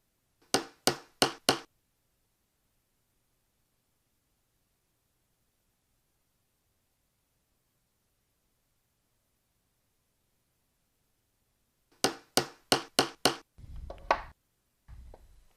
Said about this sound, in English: I am going to just punch it using a little hammer